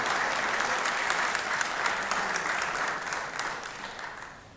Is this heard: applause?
yes